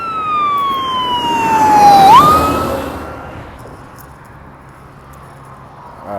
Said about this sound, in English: Wait until this ambulance get out of here.